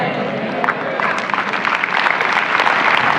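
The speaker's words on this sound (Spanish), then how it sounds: "denle un aplauso fuerte, fuerte, fuerte" A church congregation applauds loudly and steadily, with dense rapid clapping filling the room while a voice speaks over it.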